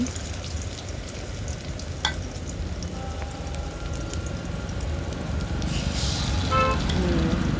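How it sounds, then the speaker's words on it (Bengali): Thankuni leaf fritters sizzle and crackle continuously in hot oil as they are added one at a time, with a soft clink of a utensil partway through and the frying steady throughout. "বড়া আর একটা একটা করে দিচ্ছি আমি দেখো বেশি হবে না যে দেখো দিয়ে দিলাম তেলে"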